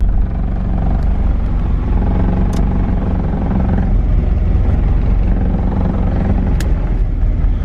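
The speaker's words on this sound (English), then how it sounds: "I really just want to take the thing for a drive real quick before we end this video" A K-swapped Honda CRX with a freshly fabricated full 3-inch exhaust drives around the block at dusk, its loud, steady engine drone running continuously with no talk over it.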